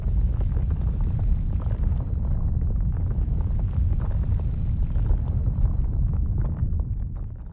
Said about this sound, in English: And then here's the earthquake.